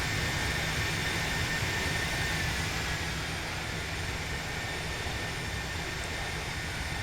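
Airbus A330 with GE CF6 jet engines roars steadily in an X-Plane flight simulator flyby at the airport, as a constant, loud broadband engine drone with no pauses.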